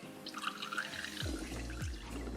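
Water poured into a glass jar or pan holding quail eggs, a soft trickling pour with gurgles and a few drips, quiet and close with no talk.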